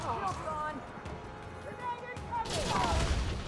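Muffled booms and crackling blasts from grenades going off in a PC video game, moderately loud amid continuous game noise, with a voice talking over part of it.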